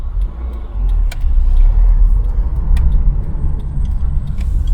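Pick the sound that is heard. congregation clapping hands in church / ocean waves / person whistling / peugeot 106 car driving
peugeot 106 car driving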